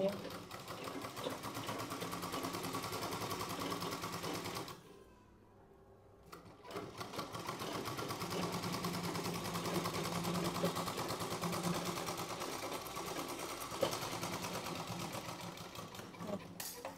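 A home sewing machine stitching a straight seam on a blouse, a steady close mechanical whirr running continuously, stopping for about a second midway, then resuming, with someone talking over it.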